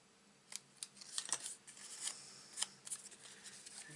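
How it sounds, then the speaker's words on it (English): Scissors snip through tape while a notebook, pen and gift box are being wrapped, giving a handful of sharp, close, crisp cuts with small paper rustles in between and no talking. "Just give that a little snip."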